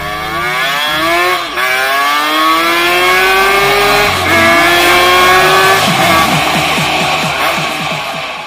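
A high-revving Kawasaki Ninja RR motorcycle engine screams up through several gears, each shift dipping then climbing again, loud and close.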